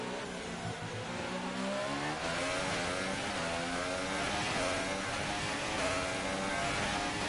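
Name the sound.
F1 car engine revving in video game F1 2018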